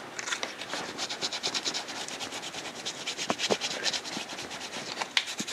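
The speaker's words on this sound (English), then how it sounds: "rub it in with the steel wool" Steel wool rubbing hard-drying wax into the top of a guitar bridge, a close, steady scratchy scrubbing with quick back-and-forth strokes and a few sharper scrapes, no talking.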